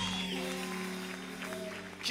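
Applause from a church audience at a Burundi night service, clapping steadily for Dr Sebastien, fairly quiet and even, with a voice talking over it.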